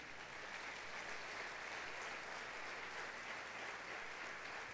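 A church congregation applauds God after a sermon, a dense, even wash of clapping heard from a distance that holds steady throughout without speech.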